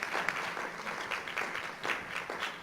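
Conference audience applauding steadily for a few seconds, a dense spread of many hands clapping at moderate distance, fairly quiet overall.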